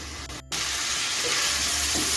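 Potato and cauliflower pieces frying in a pan over a medium gas flame, with spring onion stalks nearby, giving a steady, close, bright sizzle that drops out for a split second near the start and then carries on unbroken.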